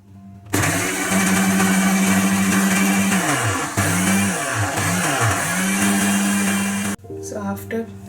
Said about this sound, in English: Now I will grind this.